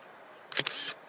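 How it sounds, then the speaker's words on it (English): A Nikon P1000 super zoom camera zooms in, giving a brief close mechanical burst of clicks followed by a steady whir that lasts under half a second and then stops. "So let's put our Nikon P1000 super zoom camera to work."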